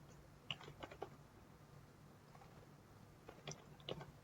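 Quiet bursts of computer keyboard typing, a short cluster of keystrokes followed by a pause and then a second flurry, soft and close in an otherwise hushed room.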